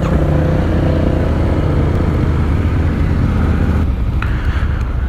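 A motorcycle engine drones loudly and continuously while riding, with strong wind and road noise blending into a steady roar throughout.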